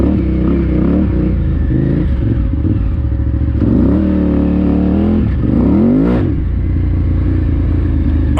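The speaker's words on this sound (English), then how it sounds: "Big ADV bike in the sand." A 2009 KTM 990 Adventure motorcycle churns through sand, its big twin engine loud and close, revving and surging steadily with rising and falling throttle swells and no talk.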